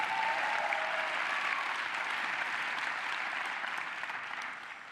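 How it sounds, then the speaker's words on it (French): A large crowd at a political rally in Lille claps warmly, thick sustained applause that holds steady before slowly tapering off toward the end. "on peut applaudir Laurent de Gallet"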